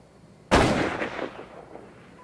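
A single loud gunshot in The Culling video game, a sharp close blast followed by a rumbling decay lasting over a second, alone with no talk.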